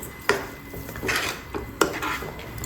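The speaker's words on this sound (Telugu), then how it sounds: "షుగర్ వేసుకున్న తర్వాత బాగా కలుపుకోవాలి." A spoon stirs sugar into rava kesari in a pan, giving close, distinct metallic clinks and scrapes at an irregular rhythm, with two sharper knocks over a soft rubbing sound.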